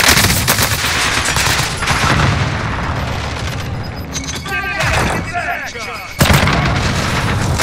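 Dense video-game gunfire, overlapping shots and bursts from several weapons with booms mixed in, loud and continuous throughout, with a player talking over the shooting.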